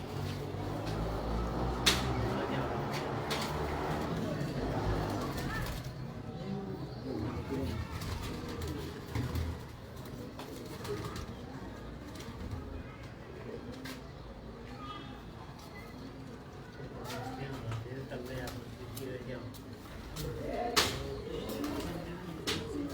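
Breeder pigeons cooing in a loft, soft repeated low coos layered over one another at close range while someone talks intermittently.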